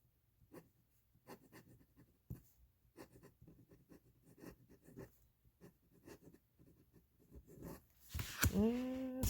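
Nib of a TWSBI 700 Vac fountain pen scratching across paper in close, soft strokes with steady irregular rhythm, ending in a burst of louder handling noise near the camera.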